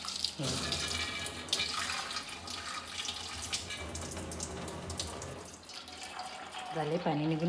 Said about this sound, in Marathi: भातातलं पाणी काढून घेते बघा